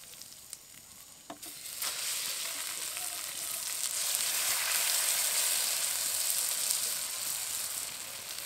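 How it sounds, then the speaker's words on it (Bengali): Grated coconut and chana dal paste fry in hot ghee in a pan with a loud, steady sizzle, swelling after a few stirring knocks and holding a continuous hiss throughout. "এবার এই ঘিয়ের মধ্যে দিয়ে দেবো নারকেল কোড়া। এবার ছোলার ডাল বাটা দিয়ে দেবো।"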